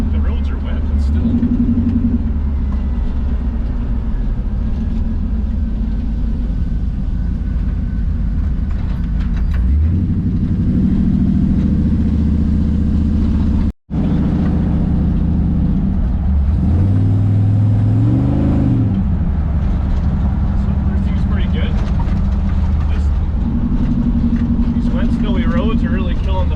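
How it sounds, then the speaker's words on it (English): An LS-swapped 1957 Chevy roars and revs hard through a snow burnout, a loud, close, continuous engine rumble with repeated surging throttle pushes and one abrupt cutout partway through. "I like the snow burnout."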